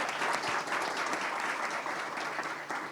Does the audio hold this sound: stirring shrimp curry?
no